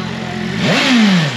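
BMW M1000RR superbike at Circuit Dijon-Prenois track day, engine note loud and close, swelling and sliding down in pitch as it rolls past along the straight toward the pit lane.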